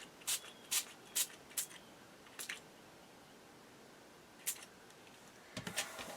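A spray bottle spritzes ink onto a journal page in a series of short, crisp hissing bursts, several in quick succession at first, then a pause before a few more sprays near the end.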